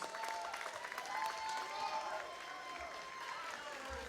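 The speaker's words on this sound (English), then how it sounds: "can we get a massive round of applause for both of these men after 5 excellent championship rounds?" Arena crowd applauding and cheering two fighters after five championship rounds of a Muay Thai title bout, a dense steady roar of clapping with voices and whistles mixed in, loud and continuous throughout.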